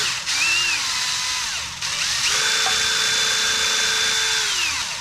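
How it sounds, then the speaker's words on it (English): Stainless steel wire wheel spinning in a drill to scrub corrosion off a tail light, a steady high whine with a brief stop and restart, the pitch sagging as the bristles bear down on the metal. "a wire wheel that you'd put in your drill"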